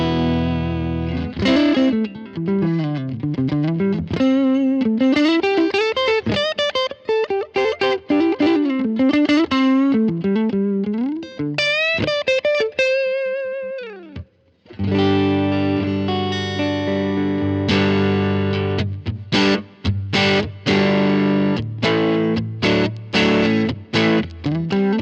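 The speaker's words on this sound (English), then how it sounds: "this is essentially just hearing the absolute default settings of the Bassman normal channel" An electric guitar played through a Line 6 Helix Bassman amp model on default clean settings with a touch of compression, heard alone as melodic single-note runs and then sustained strummed chords.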